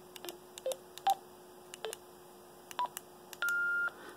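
Handheld radio keypad beeps as a frequency is entered: a string of short, sharp tone chirps at uneven intervals, ending in a longer confirmation beep, over a faint steady hum.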